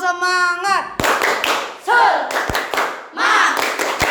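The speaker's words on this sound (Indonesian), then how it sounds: "Tepuk semangat" A class of children in a school classroom does rhythmic spirit clapping, sharp claps in a patterned sequence that alternate with children chanting and a sung tone at the start.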